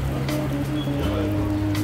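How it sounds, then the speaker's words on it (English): Heavy rain pours down at a camp in a canyon, a steady broadband wash with scattered drops striking nearby surfaces, close and continuous under a low steady hum. "it's pouring rain right now"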